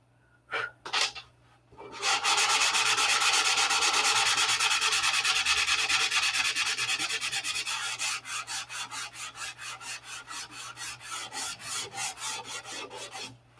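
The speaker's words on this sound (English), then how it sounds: "So in order to use less paint, you have to sand paint off." Paint is sanded off by hand with rapid rubbing strokes, first a continuous loud scrape, then slowing into distinct rhythmic back-and-forth passes, close and alone.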